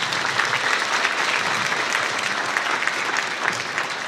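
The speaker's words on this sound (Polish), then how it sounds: "Wielkie brawa" Warm, steady applause from a concert audience after a singer's performance at a mazurka forum, dense clapping at an even level for several seconds with no talk over it.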